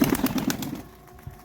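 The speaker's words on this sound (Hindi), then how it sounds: "एक और कबूतर है अंदर। अच्छा कबूतर है।" Pigeon cooing at close range, a quick series of soft rhythmic coos for under a second, then near quiet with faint background noise.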